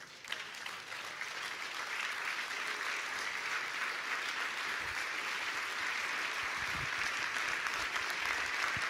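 Sustained applause from a church congregation in Paris, dense, steady clapping from many people throughout, with no voices rising above it.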